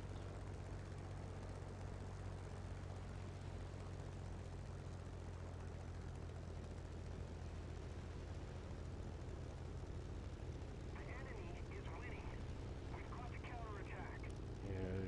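Propeller aircraft engine in War Thunder, a steady droning roar throttled back to about 30 percent on approach to an airfield, running continuously and loud throughout, with a brief higher chirping layer near the end.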